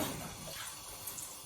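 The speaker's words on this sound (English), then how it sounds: "I'm just going to put some cold water" Cold water pours steadily into a pot of rice, a continuous splashing rush lasting about a second and a half with no voices.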